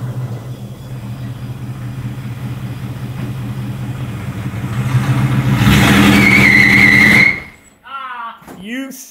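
A Plymouth Duster with a 727 automatic transmission runs loudly and close during a test, swelling and revving before cutting out abruptly, after which a voice speaks.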